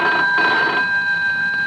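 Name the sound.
telephone ringing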